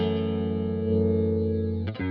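A DigiTech XP200 Modulator in its dimension stereo-widening mode thickens a sustained distorted guitar chord that rings steadily before being cut off by a brief string scrape at the end.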